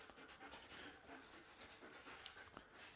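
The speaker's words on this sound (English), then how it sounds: "You can hear her drive coming up and her breathing and her panting." A working dog pants rapidly and rhythmically close by during a training session, the quick breaths steady and fairly soft, with a faint whimper in places and no speech.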